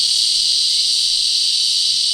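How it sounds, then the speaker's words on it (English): Cicadas buzz outdoors in a steady, loud, high-pitched drone that continues unbroken throughout. "My most immediate problem is not what to say, but those cicadas."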